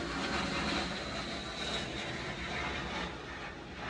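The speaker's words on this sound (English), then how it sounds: "the plane is above my head" An airplane passes overhead as a steady broadband roar that fills the whole stretch at even loudness, with a faint high whine riding on top; no talk.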